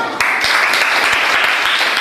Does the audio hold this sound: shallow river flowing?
no